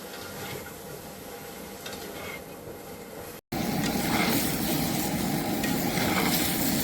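Vegetables for a Bengali fish curry and drumstick chorchori, with salt and turmeric, dropped into a hot pan of oil, giving a steady sizzle and faint stirring scrapes that jump sharply louder after a brief gap.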